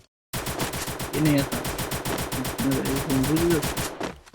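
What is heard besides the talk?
gunfire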